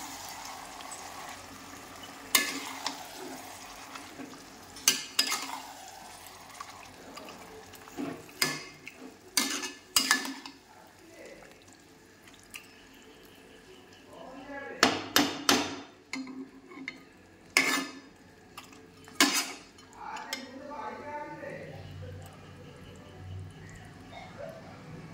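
Meat frying in a pan, a low sizzle broken by repeated sharp scrapes and clanks of a spoon stirring against the metal, in irregular bursts with quiet gaps.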